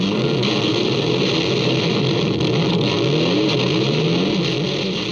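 Electric guitar played to imitate a motorbike, heard as a raw original multitrack recording: a continuous loud engine-like drone with rising and falling pitch sweeps throughout.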